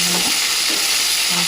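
Onions frying in oil for a carrot egg curry, a loud dense sizzle close by, with brief scraping strokes of a spoon stirring through the pan.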